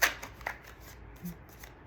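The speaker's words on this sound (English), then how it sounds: "One more shuffle. These two have been well shuffled." Tarot cards riffle in a short quick shuffle, a papery burst followed by a few soft taps and flicks, close and fairly quiet.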